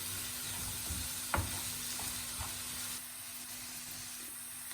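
Red pepper flakes being stirred in hot oil in a frying pan, giving a steady, soft sizzle with a brief sharp scrape of the spoon partway through, alone and fairly quiet.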